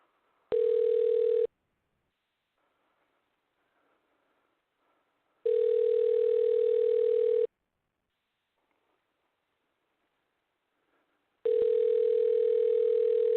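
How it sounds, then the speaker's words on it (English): Telephone line tones during a repeated outgoing call, three loud steady buzzing bursts of about one to two seconds each, separated by long silent gaps, with no voices. "I'm calling him back one more time."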